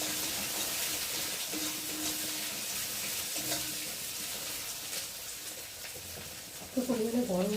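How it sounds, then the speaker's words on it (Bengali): Chopped onions frying in a hot pan with a steady, soft sizzle and occasional stirring scrapes, fairly quiet throughout, with a brief louder clatter near the end. "আর এখন আমি কেটে রাখা পেঁয়াজগুলোকে দিয়ে ভালো করে ভেজে নেব।"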